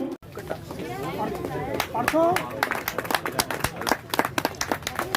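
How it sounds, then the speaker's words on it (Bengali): Audience applause at a Shyama Puja cultural function, scattered claps building into a loose burst of clapping, with crowd chatter and a voice over a loudspeaker at the start. "একটু জোরে হাততালি"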